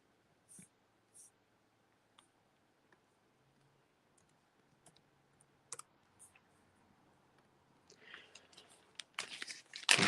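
A product SKU being typed on a computer keyboard gives sparse, scattered key clicks through a quiet room, followed by a louder flurry of clicks and crinkly rustling at the end.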